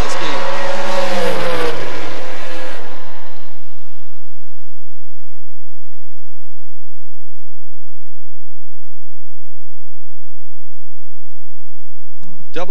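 Drag racing launch at a Mutt and Jeff Promotions event, with door cars and dragsters on the strip: a loud, roaring burst for the first few seconds fades quickly into near-silence, followed by a brief noise at the very end.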